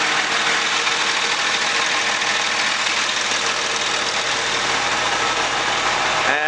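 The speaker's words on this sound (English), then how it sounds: "What I got here, this is the spreader." A lime spreader truck's engine running at a steady idle, a loud continuous mechanical drone with a low rumble that holds even throughout, with no voices over it.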